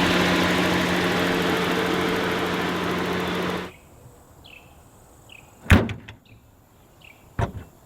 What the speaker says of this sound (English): we'll open up the passenger side